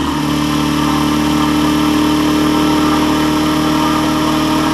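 A small homemade pulse motor with trifilar-wound coils and a diode bridge runs continuously, producing a steady, close, even buzzing hum with no pauses or talk.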